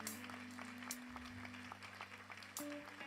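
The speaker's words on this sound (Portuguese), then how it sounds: "Aplauda o Senhor em louvor e gratidão." Church congregation applauding in praise after a closing prayer, a soft steady patter of clapping from a gathered crowd heard through a room microphone, with a sustained low organ or keyboard tone underneath.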